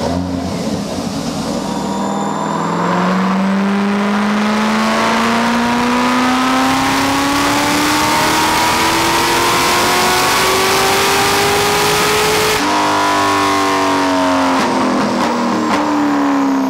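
A supercharged LS3 V8 in a C6 Corvette pulls hard on a dyno, a loud continuous roar rising steadily in pitch through the run, then a sudden shift or lift and more revving, close and alone with no speech.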